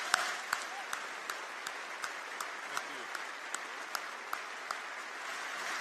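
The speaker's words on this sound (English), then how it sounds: "Let's have a round of applause for these individuals." A large commencement crowd applauds continuously, a dense wash of clapping with a few sharper claps standing out at regular intervals throughout.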